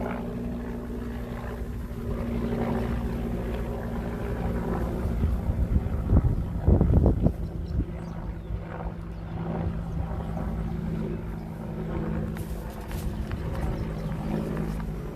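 A helicopter passes over a lakeside prairie at Benbrook Lake, Fort Worth, its low steady rotor drone building to a loud gusty peak near the middle and then easing off, mixed with wind rumble on the microphone.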